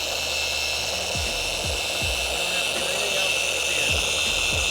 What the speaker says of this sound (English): just let the polisher do the work